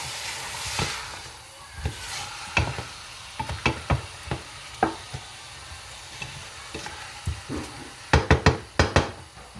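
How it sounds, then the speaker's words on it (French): Meat frying in a pan for Algerian chakhchoukha is stirred, with repeated scraping knocks of the utensil over a steady, quiet sizzle, the stirring strokes bunched near the end. "Et on va touiller."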